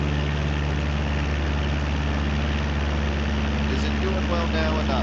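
Aircraft engines drone steadily and loudly in Microsoft Flight Simulator 2024, a constant low hum with strong tonal bands that fills the whole stretch, with faint background sounds near the end.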